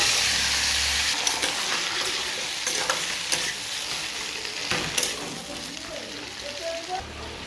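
Pieces of ash gourd dropped into a pan with bay leaf and cumin tempering give a strong, continuous frying hiss with occasional stirring scrapes, close by, while a voice speaks faintly underneath.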